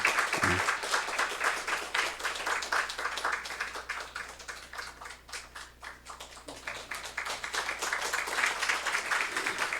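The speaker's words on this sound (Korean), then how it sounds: "박수로 축복하겠습니다" A congregation applauds steadily for the full stretch during a Sunday church service, dense overlapping claps in a room with no one speaking.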